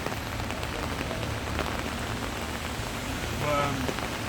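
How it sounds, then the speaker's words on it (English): Rain pours onto a London street in a steady, close wash of drops hitting the pavement, with faint voices in the background. "You see, it's raining."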